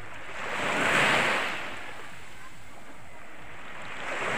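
Ocean waves wash steadily on a clear sea where fishermen work from boats, with one surge swelling early and the surf then rumbling on evenly under wind.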